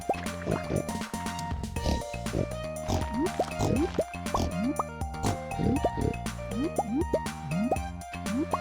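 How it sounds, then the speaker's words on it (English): A large herd of about 72 pigs in a farming video game, giving repeated short grunts and rising oinks in a busy, uneven chorus over a steady background tone. "Only 5 hay to fill the silo for all these pigs. It's 72 pigs."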